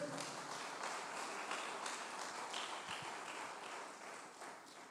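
Congregation applause at a Portuguese-language church service, a steady wash of many hands clapping at moderate distance that holds throughout and tapers slightly at the end.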